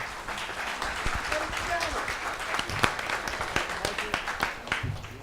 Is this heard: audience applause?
yes